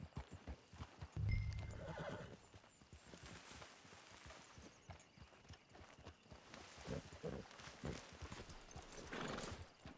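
In Red Dead Redemption 2, a horse gives a loud whinny early on, then its hooves clip-clop in an uneven walking rhythm close by, with a few quieter snorts and shuffles mixed in.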